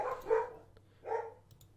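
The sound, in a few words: dogs barking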